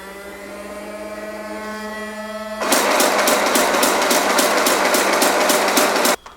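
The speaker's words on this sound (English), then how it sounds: "so this should rev up right now." Flywheels on a drum-fed Nerf N-Strike Mega Mastodon blaster spin up, with a loud, close, buzzing whir that starts abruptly partway in after a faint hum, holds steady, then cuts off just before the end.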